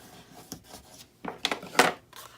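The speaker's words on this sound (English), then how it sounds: "go ahead and fold in and burnish all your edges" Folded paper edges of a papercraft tissue box being burnished, producing a few short, dry rubbing and scraping strokes up close, separated by brief pauses, with the final stroke the loudest.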